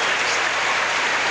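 A capacity crowd at an equestrian show jumping event at the 1984 Olympics applauds, a dense, even wash of clapping that fills a brief moment at steady volume.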